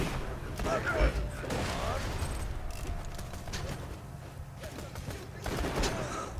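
Pistol fire from the video game Borderlands 2 crackles in quick, uneven bursts of sharp shots over in-game noise, with people talking over the gunfire throughout.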